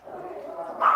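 Dogs bark at a man walking on crutches, a short yapping burst that rises sharply near the end over a steady, mid-loud background.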